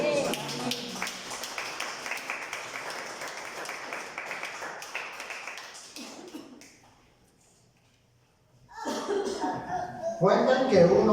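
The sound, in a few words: church congregation applauding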